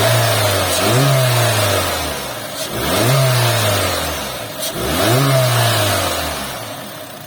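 A 2021 Honda HR-V with its 1.5-litre L15ZC engine cranks and fires, then revs up and settles three times in a row, each rise and fall clear and close, with no talking.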